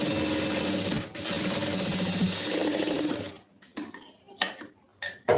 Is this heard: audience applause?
no